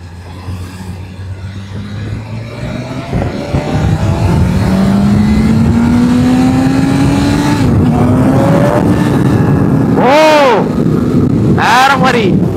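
A BMW superbike in Dynamic mode pulls away after the clutch is let out, its engine note climbing steadily and loudly with wind rush. A couple of sharp rev blips follow near the end, and a voice talks over it.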